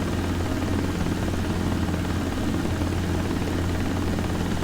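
Steady helicopter rotor and engine drone from a desktop helicopter flight simulator game, loud and continuous throughout with a low pulsing throb and no talk.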